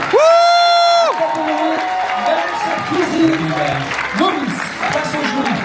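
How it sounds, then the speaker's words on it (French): A bodybuilding competition crowd applauds the competitors, opening with a shrill drawn-out whistle or shout, then loose clapping and cheering mixed with nearby voices and shouts. "Applaudissements, mesdames et messieurs"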